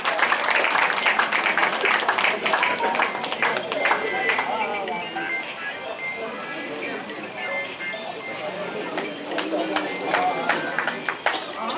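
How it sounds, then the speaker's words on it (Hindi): Audience applause at a Brahmin community introduction gathering in a hall in Durg, a dense, steady clapping from a crowd that continues throughout at moderate loudness. "जोरदार ताली।"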